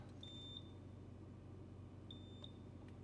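A tire wheel balancer's measuring arm gives two short pairs of thin, high beeps, each pair a quick double tone, over a faint steady shop hum.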